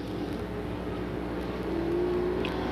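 Street stock race cars roar past on an oval track during a qualifying event, a continuous loud engine drone that swells slightly as the lead cars come by.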